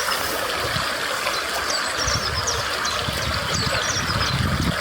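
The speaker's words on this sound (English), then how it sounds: "Look at this river. It's very fast flowing here." A fast-flowing river rushes in a steady broadband wash of water, continuous and fairly loud throughout, with no voices over it.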